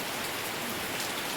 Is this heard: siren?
no